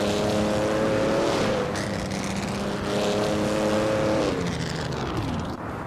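A 1952 Ferrari 375 Indy Type race car in a racing video game holds a loud, steady engine drone whose pitch climbs and shifts between gears, with a brief dip and renewed surge near the end.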